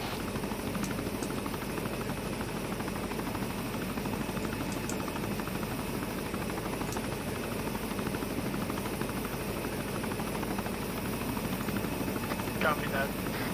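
A helicopter in the video game GSEC Operation White Tiger gives off a constant, even rotor-and-engine roar that never changes, with faint voices present in the background.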